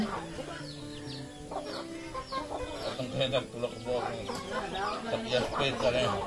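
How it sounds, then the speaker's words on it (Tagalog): Chickens cluck and a rooster calls close by on a farm, soft overlapping clucks in a steady barnyard chatter while people talk over them. "Tinitingnan niyo yung mga manok niya."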